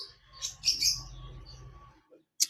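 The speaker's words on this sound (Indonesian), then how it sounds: "di warung kopi yang ada burung-burung di belakang tuh" Small birds behind a roadside coffee stall chirp in quick, bright bursts, with a cluster of tweets early on and a single sharp call near the end. The calls are fairly close and clear, with no talking.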